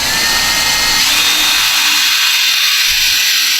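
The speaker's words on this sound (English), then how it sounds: "and drill a hole." A power drill bores a hole through a wooden cigar box for a DIY cigar box guitar, a loud steady high-pitched whine held without pause from start to finish, close up and with no talk.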